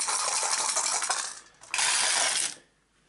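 Handful of dice rolled for the board game Secrets of the Lost Tomb, two bursts of bright rattling clatter close by, the second after a brief pause, then quiet.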